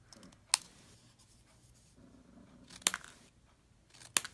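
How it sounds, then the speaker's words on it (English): Detail shears snip flag ends into paper in three distinct, crisp cuts spaced about two seconds apart, close and fairly quiet, with soft rustling of paper between them. "Then I'm going to take my detail shears and just cut some flags on the end of these"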